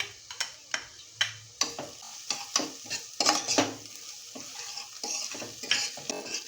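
Onion being sautéed in a pan for spinach masoor dal, with repeated sharp taps and scrapes of a spoon against the pan over a soft sizzle, close and fairly loud, no talking.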